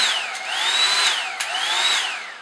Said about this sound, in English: let's plug the hairdryer in. It was turned on.